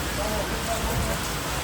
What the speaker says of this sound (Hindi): बारिश तो सुबह से रुकने का नाम ही नहीं।